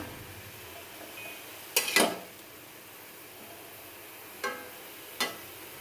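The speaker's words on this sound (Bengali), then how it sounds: "ভাজিগুলো হয়ে গেছে, ভাজিগুলো তুলে ফেলবো" Fried vegetables, a mix of sweet pumpkin, bottle gourd greens and ash gourd, scooped from a pan, giving a few sharp utensil scrapes and clinks against the metal, one cluster early and two brief knocks later, close by in a quiet kitchen.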